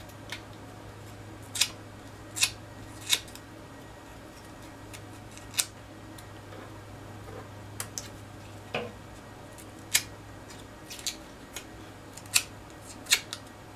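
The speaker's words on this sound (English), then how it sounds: "I'm just using the edge of my scissors." Sparse, sharp little scraping clicks of a scissor blade edge curling paper flower petals come one at a time at irregular intervals against a quiet room hum, close and faint.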